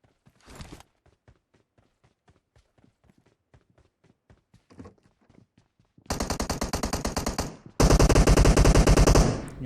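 M16 automatic rifle fire in PUBG on the Erangel map: sparse distant single shots and short bursts at first, then two long, loud, rapid automatic bursts close by.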